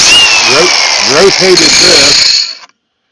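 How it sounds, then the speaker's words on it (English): An angle grinder cuts into a threaded part held steady with a pipe wrench during a Ford Series J Model 201 disc repair, giving a loud, continuous high whine with pulsing tonal bursts before stopping abruptly near the end. "I put my pipe wrench on here and then just held my angle grinder"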